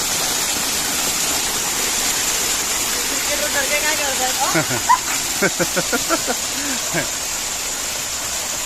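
Steady roar of a waterfall at Karanjade hill, falling in five streams, fills the scene, with a person's voice and rhythmic vocal sounds rising briefly over it midway.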